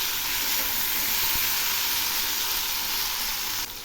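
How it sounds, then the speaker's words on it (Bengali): Mixed vegetables with ridge gourd frying in oil in a pan, a steady close sizzle with bright hiss and no pauses, fairly loud throughout. "সবজিগুলো আর একটু ভেজে নেব।"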